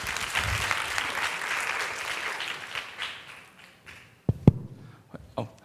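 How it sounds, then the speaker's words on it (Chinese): Audience applause at a civic tech conference, a dense round of clapping that gradually thins out and fades, ending in a few scattered taps and handling sounds. "那我们掌声欢迎无家者小帮手"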